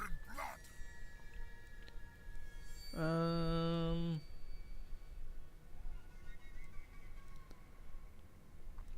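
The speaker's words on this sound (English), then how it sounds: "Let's go ahead and get a thing of war dogs." War dogs in Total War: Warhammer 2 give one drawn-out, tonal howl-like bark lasting about a second, midway through a quiet stretch of game ambience with faint clicks.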